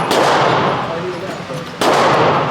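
Two loud, sharp 5.56 rifle shots crack at an outdoor gun range, one at the start and one about two seconds later. Each bursts harshly and then decays with a reverberant tail.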